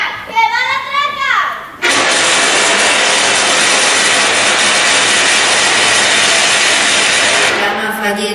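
A roaring rocket-like engine blast bursts in abruptly after a few seconds of talk, holding a loud, steady broadband rush for several seconds before cutting out as voices return.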